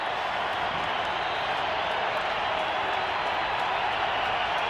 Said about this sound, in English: Crowd making itself known here.